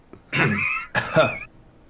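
A voice imitates a slight cough with two short breathy, throaty bursts close to the mic, then quiet.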